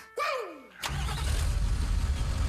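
A Nissan Titan XD pickup with a Cummins diesel engine cranks with a brief rising whine, then catches and settles into a loud, steady rumbling idle, close by.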